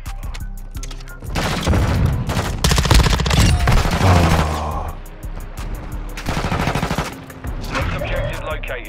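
Gunfire in Call of Duty Modern Warfare 2: sustained bursts of automatic weapons and heavy impacts, loud and close, rising and falling in waves with brief lulls between volleys.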